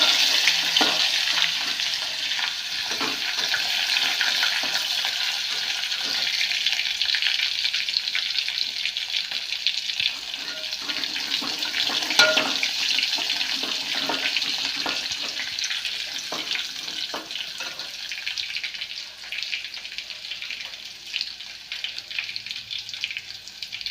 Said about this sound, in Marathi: आता लसूण घालते.